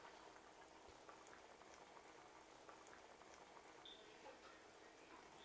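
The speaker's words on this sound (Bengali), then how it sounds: "তরকারিটা বলক এসে পড়েছে" A vegetable curry with onion and tomato simmers in a pot, giving soft, quiet bubbling and popping that stays faint and steady throughout without speech.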